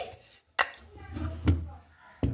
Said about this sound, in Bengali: শাকটা কিন্তু খুব মোটা বা মিহি করে কাটলেও হবে। তো আমি কেটে নিচ্ছি।